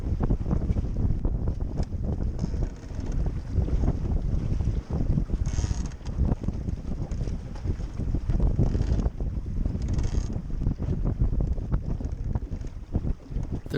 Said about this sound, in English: There's a fairly stiff breeze blowing, but the waves are very small